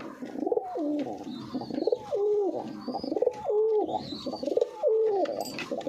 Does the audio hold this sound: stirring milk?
no